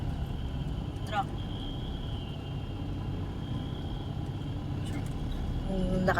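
A loaded truck's engine roars with a heavy, continuous low rumble from inside a moving vehicle on the road to Tagaytay, steady throughout, with people talking over it.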